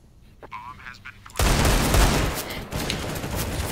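A loud burst of gunfire erupts after a short quiet start in a CS:GO competitive match played with Desert Eagle pistols, a dense crackling barrage that continues at slightly lower level, with brief speech before it.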